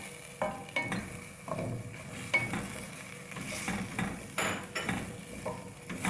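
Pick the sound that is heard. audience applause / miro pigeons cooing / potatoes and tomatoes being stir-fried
potatoes and tomatoes being stir-fried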